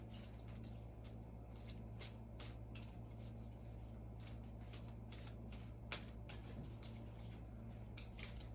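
Tarot cards are shuffled by hand in quick, crisp bursts of papery riffles and slaps, close and fairly quiet over a steady low hum, with no talking.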